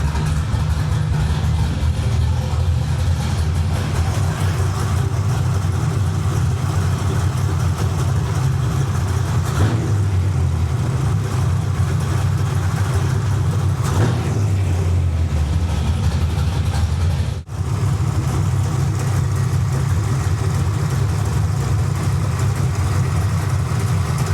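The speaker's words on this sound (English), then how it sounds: "the car started to stumble" A car engine idles steadily with a low rumble throughout, its rhythm wavering and stumbling unevenly at moments during a test drive after repairs, with a brief dropout near the end.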